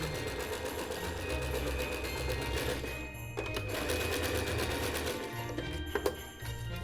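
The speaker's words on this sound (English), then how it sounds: "I placed the pieces together and stitched along the center line" A sewing machine stitches fabric pieces together along a center line for a Christmas decoration, with a fast, steady mechanical rattle running close and continuous, broken by a brief pause and a few small clicks.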